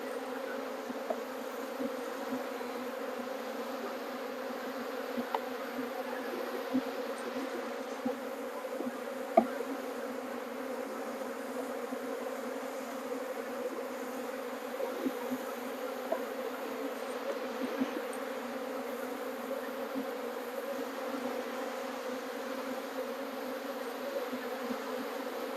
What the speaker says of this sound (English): I could feel the bees around my forearm